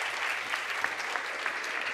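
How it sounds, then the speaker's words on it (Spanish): An audience in a talk-show hall applauds steadily, with dense, even clapping for the whole short stretch. "Un aplauso para ella."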